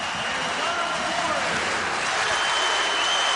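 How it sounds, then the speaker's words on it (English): A basketball arena crowd applauds departing seniors steadily, a dense wash of clapping that holds at an even level throughout. "Mark Turgeon, clap for the seniors that went out."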